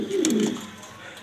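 A single short, low coo from a newly paired racing pigeon sounds close by, then fades into quiet.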